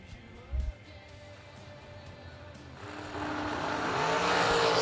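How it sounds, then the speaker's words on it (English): A dragster at a drag racing event rises from a distant rumble into a loud, building engine roar as it launches and pulls away, with a short thump near the start. "taking on Fred Rogers, 17 dragster from Laurel, Delaware"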